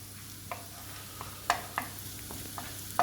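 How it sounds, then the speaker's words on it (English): Garlic cooks gently in olive oil in a pan over low to medium heat, with a soft sizzle beneath a few sharp scraping stir clicks spread unevenly across the moment. "Cook the garlic for about 2 or 3 minutes, low to medium heat."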